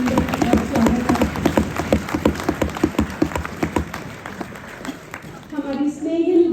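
An audience claps to welcome Rekha at a book launch event, a dense patter of applause running steadily under someone speaking, then fading as the voice continues alone.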